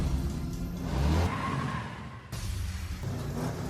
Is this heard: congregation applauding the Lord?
no